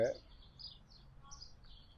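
Faint, high chirps of birds drinking water repeat in short bursts, somewhat distant over quiet background noise, in Bayonne, France.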